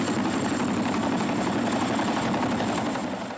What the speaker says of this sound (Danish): En Chinook-helikopter skal bruges til at føre jægerne frem